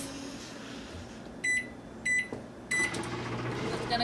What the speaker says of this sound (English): And how long are you going to bake them in the microwave? 50 seconds.